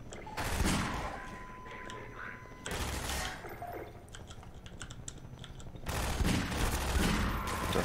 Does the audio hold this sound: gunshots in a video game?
yes